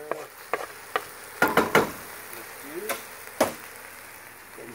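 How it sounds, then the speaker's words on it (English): Garlic is stirred in a pot for chicken kale soup, a spoon scraping and knocking against the pot in a handful of short, sharp clicks and scrapes over a quiet background. "Let's give this a stir."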